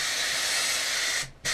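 A Blichmann Beer Gun purges a bottle with gas in a steady, loud, close hiss that runs for over a second, then stops briefly and restarts.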